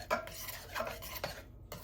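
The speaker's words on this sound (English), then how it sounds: "And just start mixing it all together." A spoon works mashed potatoes and heavy whipping cream together in a bowl, giving several rhythmic scraping, squishing strokes up close, with no voices.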